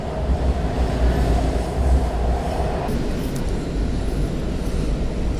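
An Amtrak passenger train rumbles past with a continuous heavy roar and faint wheel squeal, loud and close throughout on a snowy day in Washington, DC.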